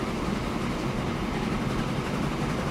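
A steam-era train running in the video game Transport Fever, set in 1856, produces a steady, continuous rolling rumble with a faint rail clatter and no pauses.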